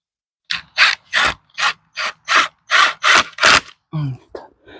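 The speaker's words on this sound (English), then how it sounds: "we're gonna get a screw in here" A screw is driven in short, rhythmic ratcheting bursts, about nine close, loud pulses, fixing a rubber liner in place during a waterfall reseal, then a few softer clicks follow.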